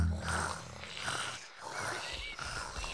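Cartoon children in Peppa Pig imitating a tiger's purr with voices, producing rough, rumbling growly purrs in several repeated pulses, close and fairly soft.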